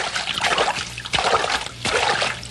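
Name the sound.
splash of someone going into the water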